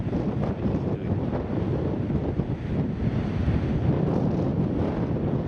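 Steady wind gusts blow outdoors and buffet the microphone with a broad, rough roar that stays constant, without speech.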